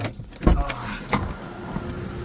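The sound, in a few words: car being shut and locked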